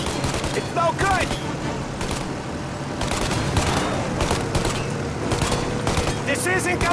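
Dense automatic gunfire in the Mafia Definitive Edition video game, fired at a plane's engines as it tries to take off, loud continuous bursts under shouted voices and game noise.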